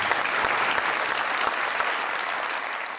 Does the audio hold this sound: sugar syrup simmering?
no